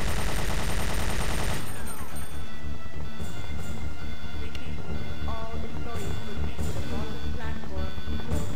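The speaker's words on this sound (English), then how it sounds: "I think all it is like another submachine gun." Submachine gun fire in the video game Resident Evil 2 (Claire's campaign): a dense rapid burst at the start, then scattered shots and game sounds, fairly loud and close.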